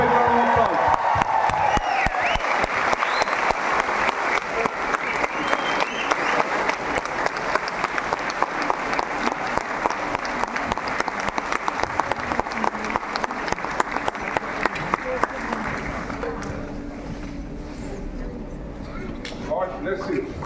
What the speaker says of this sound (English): Let's give up a round of applause.